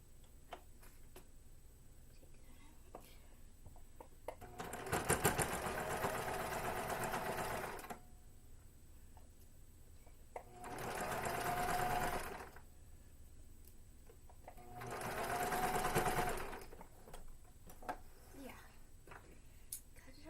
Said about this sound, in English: it's time to sew the second piece of elastic on